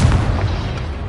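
A Confringo fire blast spell explodes in the Hogwarts Legacy game, a loud, dense, low booming burst that fills the whole moment and rumbles steadily without a break.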